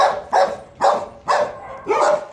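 A dog barks five times in an even rhythm, close and fairly loud, with no one talking.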